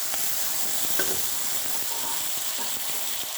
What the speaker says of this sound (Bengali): আমি এখন রসুনটা দিয়ে দেবো।